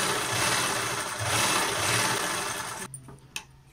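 A sewing machine stitches a cloth puff sleeve with a steady, close mechanical whirr and rapid needle rattle, then stops abruptly near the end, leaving a few quiet clicks of fabric handling.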